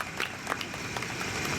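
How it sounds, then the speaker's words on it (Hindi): Audience applause at a large poetry gathering (kavi sammelan) for a Babasaheb Ambedkar birth anniversary in Ghaziabad, a fairly faint, thin patter of claps spread over a short stretch with a few sharper hits. "एक बार अपने लिए जोरदार तालियां बजा दीजिए"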